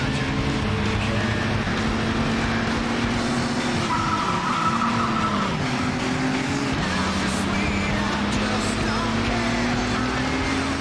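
Car in a Codemasters racing game, its engine droning steadily while the tyres let out a long skidding squeal during a handbrake turn, with pitch sweeps as the car slides through the corner.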